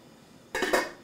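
A metal lid clinks down onto a pot of squid set to simmer, a short pair of close, light clatters in a quiet kitchen.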